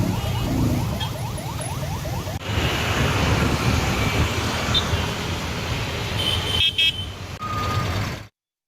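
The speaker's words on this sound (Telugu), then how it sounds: "పంతంగి టోల్ ప్లాజా వద్ద 2 కిలోమీటర్ల మేర ట్రాఫిక్ జామ్ అవుతోంది" Heavy highway traffic backed up about two kilometres at the Pantangi toll plaza on the Vijayawada–Hyderabad road: a steady, dense roar of road noise and wind rumble throughout, ending abruptly.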